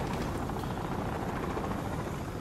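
A helicopter in the video game Modern Warfare Remastered gives a steady, dense rotor and engine roar. It runs loud and unbroken through the whole stretch with no talk over it.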